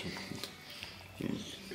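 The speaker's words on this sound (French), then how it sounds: "c'est un chien" A dog gives low, snuffling grunts in short bursts, faint and close, with people talking at times over a quiet background.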